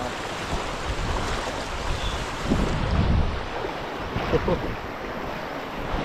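Rushing water of a waterfall on the Mekong River fills the whole stretch, a steady broadband wash with a few heavier surges, close by and loud, with wind buffeting the microphone.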